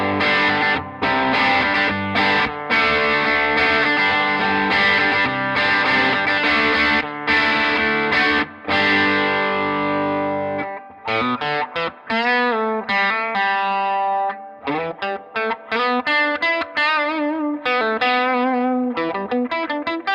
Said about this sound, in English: Now let's go to the distortion side and give a little strum here